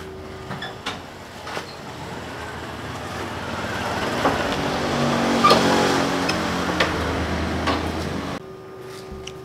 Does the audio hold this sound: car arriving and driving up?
yes